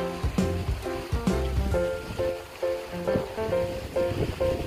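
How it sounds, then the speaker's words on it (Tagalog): A river near a house rushes continuously, a broad, fairly loud outdoor wash with gusty swells, blended with faint tonal background sounds and no talk. "Ito yung ilog na malapit lang sa bahay namin."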